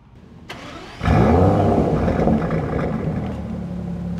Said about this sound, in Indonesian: sekarang kenapa kita nggak dengerin suara mesinnya dulu?